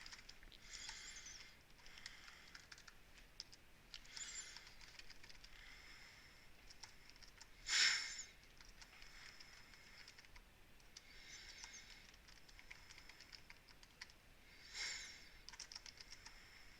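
Someone types a sentence on a computer keyboard, producing soft, close bursts of rapid key taps with short pauses between words and one louder clack partway through, with no talk.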